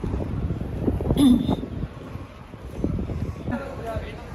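Gusty sea wind rumbles against the microphone outdoors at Scheveningen beach in The Hague, with bursts of voices and movement mixed in over the blustery noise.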